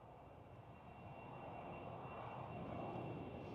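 A British Airways CityFlyer Embraer E190 jet takes off at Amsterdam Schiphol, a broad, steady engine roar heard from a distance that swells gradually and holds, with no voices over it.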